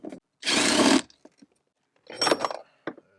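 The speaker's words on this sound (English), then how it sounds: "with a number 13 socket, I'm going to remove the top bolt" A socket wrench with a number 13 socket removing the top bolt of a rear seat in a 2022 Ford F-150, giving two separate bursts of ratcheting and metal clatter, each about half a second long, with short ticks in between.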